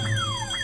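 A car alarm wails nearby with repeated falling electronic sweeps, loud and steady over a low hum, with no talk.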